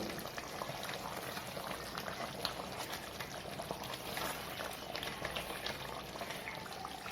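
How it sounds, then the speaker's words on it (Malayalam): Chicken curry simmering in a pot, a soft steady bubbling and gurgling of the thick gravy, close but faint, running without talk. "ഇപ്പോൾ ഏകദേശം നമ്മുടെ ചിക്കൻ നന്നായിട്ടൊന്ന് തിളച്ച് വന്നിട്ടുണ്ട്"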